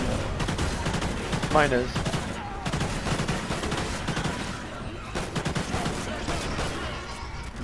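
Rifle and Bulldog shotgun gunfire in the video game Call of Duty Ghosts, dense overlapping bursts and rapid shots running continuously, with players talking over the action.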